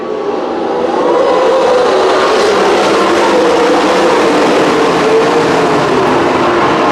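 A sprint car roars as it gets back on the gas at Calistoga Speedway, a loud, sustained, dense engine howl filling the whole stretch without break, with no voice over it.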